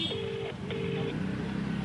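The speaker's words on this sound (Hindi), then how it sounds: "देखिए मैं आपके सामने स्पीकर पे फोन कर रहा हूं।" A phone call is placed on speakerphone and gives two short electronic tone bursts separated by a brief gap, over a low background murmur.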